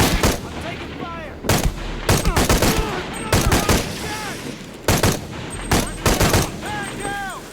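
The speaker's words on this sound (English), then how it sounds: "Hostile! I'm taking fire!" Bursts of gunfire from hostile soldiers in Shadow of the Tomb Raider ring out in several loud, sharp volleys spaced through the scene, with voices shouting between the shots.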